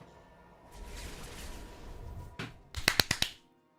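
Bloodwave attack effect in Diablo 4 from a unique Necromancer item, a burst of four or five sharp, close clapping slaps in quick succession after a softer whooshing swell.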